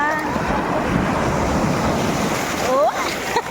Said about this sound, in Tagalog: Maalon pero hindi malakas.